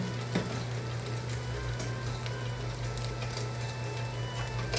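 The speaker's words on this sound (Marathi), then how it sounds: "आता थोड्या वेळ जरा परतू द्या" Ginger and garlic sauté in hot oil in a pan, the base for a masala pasta, giving a steady close sizzle with a constant hiss and faint crackles throughout.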